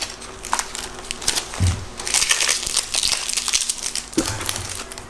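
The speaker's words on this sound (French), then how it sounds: "J'enlève le scotch." Adhesive tape being peeled off opaque paper packaging from a scrapbooking supplies order, giving crackling, tearing crinkles with a few sharp rips, close up, with no talk.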